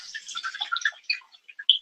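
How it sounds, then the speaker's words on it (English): Water poured over a hand, heard as a soft, irregular spatter and trickle with a brief splash near the end, fairly quiet, with no talking. "we're just going to pour the water"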